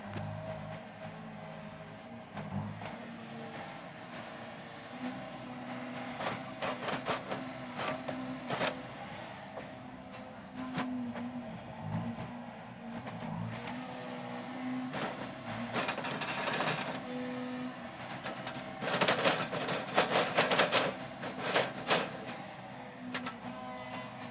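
Yanmar YB451 mini excavator digging a flood ditch, its diesel engine droning steadily while hydraulics whine and clanking, scraping bursts of the bucket and tracks come and go, fairly close and without talking.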